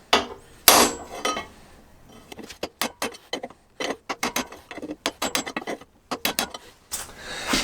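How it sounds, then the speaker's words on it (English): Hammer blows driving a bearing bush out of a Triumph Bonneville swingarm, a sharp close metallic strike near the start, then a long run of irregular light taps and knocks. "So I'll start with the lighter hammer first, and again you're going in from side to side"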